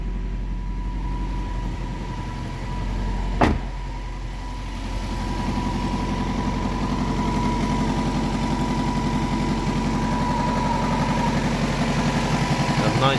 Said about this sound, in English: it's idling a bit high, still have to adjust that a little